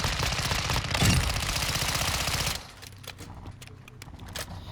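X13 Auto pistol fired from the hip in Call of Duty: Modern Warfare II, a loud rapid burst of automatic shots for about two and a half seconds, followed by quieter scattered in-game sounds.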